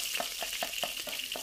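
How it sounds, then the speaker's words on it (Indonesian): Sliced shallots and garlic frying in hot oil for Indonesian sambal goreng ati, a steady close sizzle with regular stirring scrapes roughly every fifth of a second. "Ini ada minyak, kita panaskan dulu. Setelah itu kalian masukkan bawang merah,"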